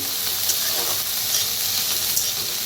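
Mixed vegetables roasting in a pan on a wood-fired stove, a dense continuous sizzle and hiss with faint scraping, loud and close with no voices.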